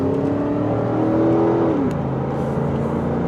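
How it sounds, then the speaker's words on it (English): A 2004 Cadillac DeVille sedan's engine revs up steadily with a rising whine, then drops in pitch as it shifts gear and keeps pulling, loud and close. "I just love the way this car accelerates and gets going"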